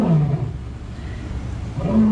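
Lions roaring at Disney's Kilimanjaro Safaris in Animal Kingdom, deep low groaning roars that swell at the start, sink into a rumbling lull and rise again at the end, loud and fairly near.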